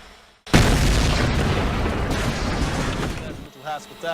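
A sudden, powerful blast of a drone exploding inside a car, followed by a long, heavy rumbling roar that slowly fades, with a voice briefly heard at the end.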